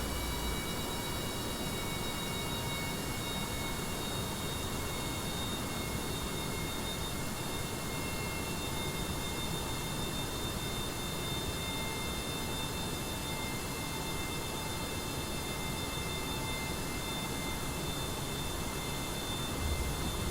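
A plane flying in Kerbal Space Program, a steady, unbroken engine drone with a constant whine, level and moderately loud for the whole stretch with no talk.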